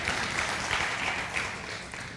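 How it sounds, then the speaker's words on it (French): Church congregation clapping at a revival service, a moderate, continuous patter of many hands without a break, fairly distant and even. "puis on peut applaudir nos royaumes"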